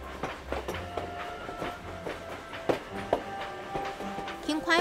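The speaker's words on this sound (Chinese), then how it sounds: "火車在走在其上的時候，它會有砰砰砰砰的聲音" A train rolls across a 637-metre steel truss bridge on an old mountain railway line, its wheels giving a rhythmic series of clanks and thumps over a low rumble, with a voice talking over parts of it.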